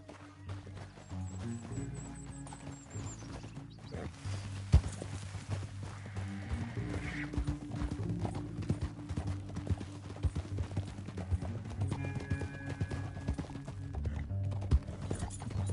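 Hooves of a galloping horse in the Western video game Red Dead Redemption 2, a quick rhythmic clip-clop running throughout at moderate level over low game music and ambience, with a brief whinny.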